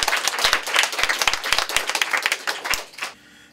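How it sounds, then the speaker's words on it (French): Loud audience applause with dense, steady clapping at the grand final of an amateur lunch cooking competition, filling about three seconds before cutting off into near silence. "Donc, une bonne belle applaudissement."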